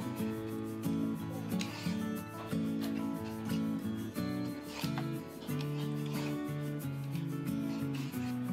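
Green mango being shredded on a grater makes rhythmic rasping strokes, repeated steadily up close, with background music playing underneath.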